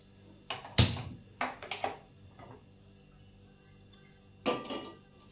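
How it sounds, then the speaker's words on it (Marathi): A gas stove being switched on and a kadhai set down on it for roasting sesame seeds: a few sharp metallic clanks and knocks in quick succession, then a pause and one more clatter, with no voices. "सर्वप्रथम मी गॅस ऑन करणार आहे आणि कढई ठेवणार आहे"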